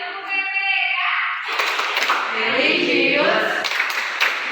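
A group stands in a classroom and claps through the rhythmic PPK clap routine. Brisk, fairly loud claps run throughout, mixed with voices that open the clip.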